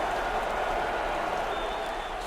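A home football crowd in Iowa applauds and cheers after a touchdown, producing a steady, moderately distant wash of clapping and crowd noise with no clear peaks.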